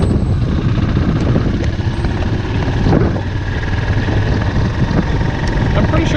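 A motorcycle engine drones steadily while riding in traffic, a loud, continuous hum mixed with rushing wind noise.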